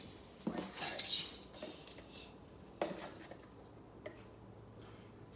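Metal measuring spoons clink close by while cornstarch is measured out for a vegan blueberry crumble: a quick cluster of bright jingles, then a few sparser taps.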